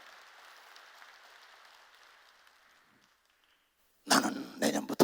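A church congregation breaks into loud, close applause for about a second after a pastor's sermon fades to silence. The applause is dense clapping that surges in a few uneven bursts.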